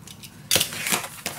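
A craft knife cuts paper for a handmade baby mini album, a short close scraping rasp that starts abruptly and runs for under a second, with a faint click near the end.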